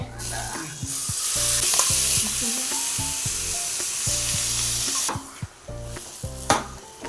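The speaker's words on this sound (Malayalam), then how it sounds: "അരപ്പും നമ്മുടെ മത്തങ്ങായും നമ്മുടെ വൻപയറും എല്ലാം കൂടെ അതിലോട്ടിട്ട് കണ്ട ഇങ്ങനെ ഇളക്കി നമ്മൾ കൊടുക്കണം" Pumpkin and broad bean curry sizzling loudly in a pan as it is stirred, with a continuous frying hiss and repeated scraping, clattering strokes of the spoon against the pan.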